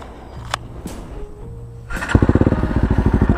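A Kawasaki-Bajaj Rouser NS160 Fi with an Akrapovic exhaust settles into idle about two seconds in, giving a loud, close, steady run of rapid exhaust pulses after a quieter stretch of faint background noise.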